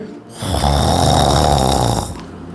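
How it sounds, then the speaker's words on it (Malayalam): A loud, close snore fills the recording, one long rasping breath swelling and fading over about two seconds. "നല്ല കൂർക്കം വലിച്ച് ഉറക്കായിരിക്കും"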